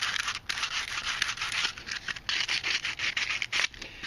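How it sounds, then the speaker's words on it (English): Sandpaper rubs a DIY wooden cell phone tripod mount smooth, a close, raspy back-and-forth scratching in quick repeated strokes with brief pauses between passes. "once you get all that done, you just sand her down"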